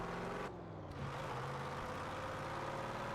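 A car engine in Forza Horizon 4 drones at a steady low rumble while cruising, loud and continuous, with a brief dip early on before the tone settles.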